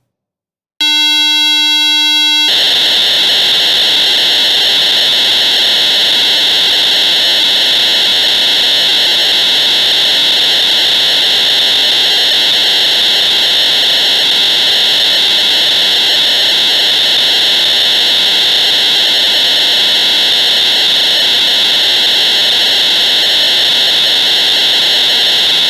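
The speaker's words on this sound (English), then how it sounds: "The data tone would be loud and screeching" A Pocket Operator PO-32 drum synth plays its modem-style data transfer tone: a brief chirping burst of stepped pitches, then a loud, steady, piercing screech of sustained tones that continues unchanged to the end.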